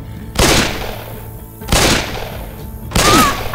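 Three loud, close bursts of gunfire ring out in Left 4 Dead 2, evenly spaced about a second and a half apart, each with a sharp attack and brief ringing tail.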